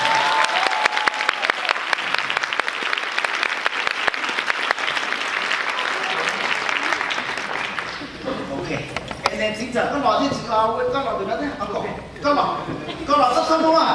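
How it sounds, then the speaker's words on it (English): Loud, dense audience applause sustained for several seconds, thinning into scattered claps with voices, laughter and chatter rising near the end. "Everyone give her a round of applause."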